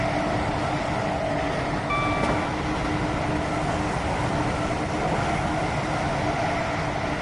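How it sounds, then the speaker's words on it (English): High-speed train in Train Sim World 3 rushing past as a loud, steady roar of wheels and rails, unbroken throughout, with a brief tonal squeal near the start. "Won't get too close to the train."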